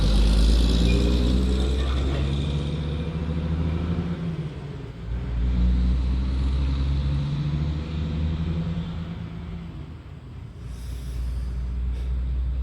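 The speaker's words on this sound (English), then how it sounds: "Let's wait for this truck to go by." A truck rumbles past outdoors, its low engine drone swelling and fading over several seconds, with no voices heard.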